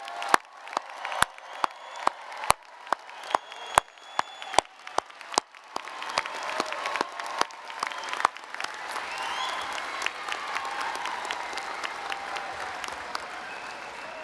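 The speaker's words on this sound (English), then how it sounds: "Let's give them a huge round of applause." Applause for the graduating class of 2026 at a university commencement, starting as scattered sharp individual claps and swelling into a dense, sustained wash of clapping from a large crowd with faint cheering, heard from some distance.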